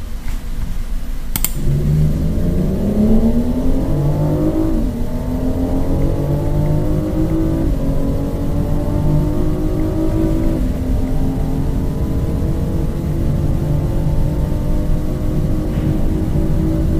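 A BMW 760Li with a 610 hp V12 engine accelerates hard, its smooth, loud drone rising steadily in pitch through successive gears, heard close from inside the car with no talking.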